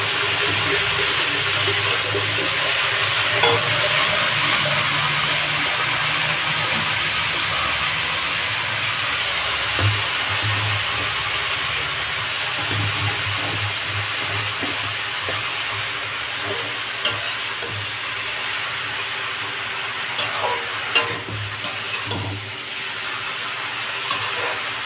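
Chopped leafy greens (saag) fry in a pan with a constant broadband hiss and sizzle that stays steady and fairly loud for the whole stretch, with a few faint clicks and no talking.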